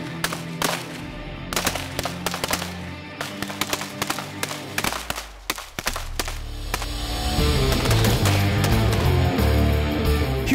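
Marines fire weapons in the snow while standing on skis or snowshoes: sharp, irregular bangs and bursts ring out over a steady background, becoming a denser, louder roar near the end.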